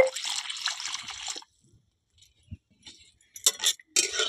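Water poured from a glass into a hot pan of spices for a brinjal curry, a brief burst of sizzling and splashing followed by quiet clinks and light stirring noises.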